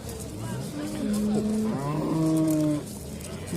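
Cow at a busy livestock market lowing in one long, drawn-out moo that swells and then trails off, close and loud over a background of crowd noise and distant voices.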